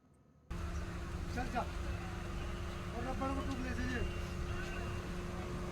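A steady low rumble and hum fill the interior of a moving train, with a faint voice speaking over the continuous engine and track noise.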